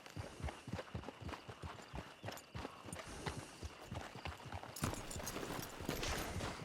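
Rapid clip-clop of horse hooves galloping in Red Dead Redemption 2 Online, a steady, driving rhythm, close and fairly loud, with no talking.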